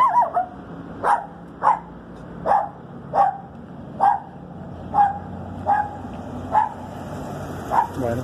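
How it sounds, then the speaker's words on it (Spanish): Dogs bark outdoors along a paved street, about ten loud single barks at a fairly steady pace of roughly one per second, heard alone without talk. "estos perros, ¿cómo hacen escándalo?"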